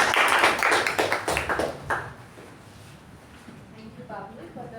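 Applause rises from the room at a Toastmasters club meeting as the table topic master is welcomed, a fairly close burst of clapping for about two seconds that thins out and fades, with a voice starting to speak near the end.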